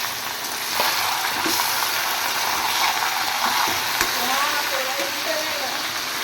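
Taro leaves (kochu shak) added to a wok and stirred after coconut has fried red, giving a dense hissing sizzle with scattered clinks and scrapes of a spatula, close and continuous.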